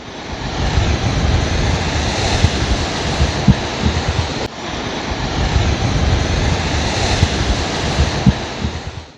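Heavy sea waves crash continuously against breakwater blocks behind a seaside temple in Gujarat, a loud, dense roar of surf with wind buffeting the microphone and no voices.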